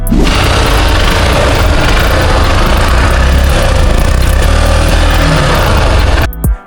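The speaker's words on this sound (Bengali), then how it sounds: "আমি বাইকটির একটু ইঞ্জিনের সাউন্ডটা যদি আপনাদের শোনাই" Hero Hunk 150R Xtec motorcycle engine running up close, a loud, continuous rumbling roar that holds steady for about six seconds before cutting off abruptly.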